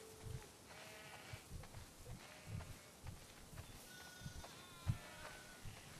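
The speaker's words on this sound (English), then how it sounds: "Okay, how do I herd the sheep?" Sheep bleating in The Last of Us Part 2 during a herding sequence, several faint wavering bleats scattered over six seconds beside soft footsteps and ambient game sound.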